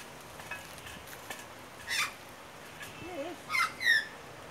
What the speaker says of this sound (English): Magpie.